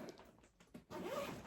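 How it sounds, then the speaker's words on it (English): A zip bag is zipped shut: a few short rasping zipper pulls, then one longer, brighter zip, close up and quiet, with no one speaking. "nice little zip bag."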